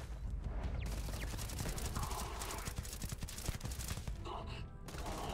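Rapid gunfire rings out while enemies are killed in Starfield, with dense, repeated shots and impacts over a busy combat backdrop.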